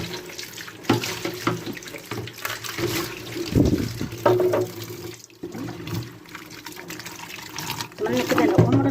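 Running tap water splashes as a thermos cooler is rinsed out in a sink for a beach trip, steady gushing and sloshing with container knocks, close and loud, with someone talking over it.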